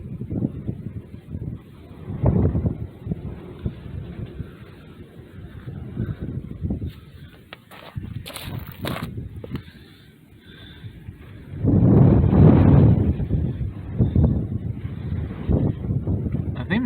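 Wind gusts buffet the microphone outdoors on a windy day, a rough low rumble that rises and falls throughout and surges loudest for a few seconds near the end.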